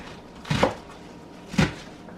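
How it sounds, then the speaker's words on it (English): A knife rough-chops spinach on a cutting board. Two distinct, separated thuds are heard close up against a quiet kitchen background. "it just is better if you do a rough chop"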